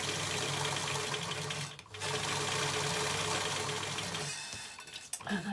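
Sewing machine stitching fabric for a scrubs hat, a steady continuous motor whir that runs for several seconds, stops briefly, starts again, and halts near the end.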